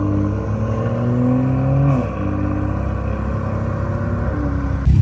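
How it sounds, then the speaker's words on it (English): A manual BMW car flies past at speed, engine note swelling as it approaches and then dropping sharply as it passes close by, with a short burst of revving near the end. "It wouldn't be one of my videos if you guys didn't get to hear this car driving past."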